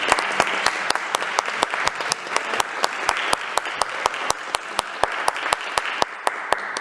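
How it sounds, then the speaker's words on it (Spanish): An audience claps for the speakers, with a dense, steady wash of applause punctuated by sharp, regular close claps throughout. "primero les voy a pedir un aplauso para las expositoras"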